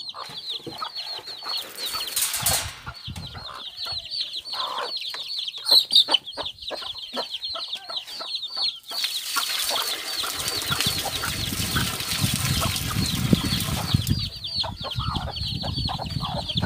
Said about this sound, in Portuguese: Então, vou botar ali comida para as outras galinhas.